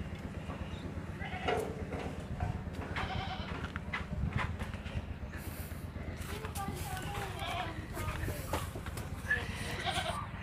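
Goats on a village farm bleat several times over a steady low rural background, the calls fairly close and repeated at irregular intervals.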